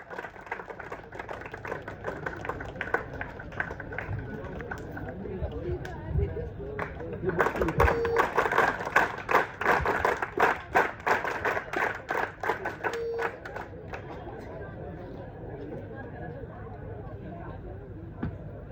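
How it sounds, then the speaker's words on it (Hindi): An indoor audience gives loud, dense applause to welcome a speaker at a talk for exam aspirants, swelling in the middle and then thinning out, with talk audible underneath. "जोरदार तालियों से सर का स्वागत करेंगे।"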